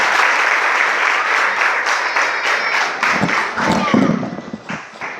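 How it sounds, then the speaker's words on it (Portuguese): Pentecostal church congregation breaking into loud, sustained applause, a thick wash of many hands clapping at once with voices calling out beneath it. "E você aceita aplaudindo o nome santo do Senhor"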